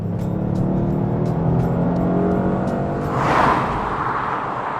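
A 2025 Toyota GR Yaris engine revs loudly nearby, a steady droning growl that swells into a rushing surge of exhaust noise toward the end.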